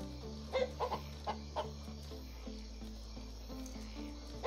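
A rooster in the video game Valnir Rok gives several quick clucks early on, then fades into droning background ambience and steady insect chirps.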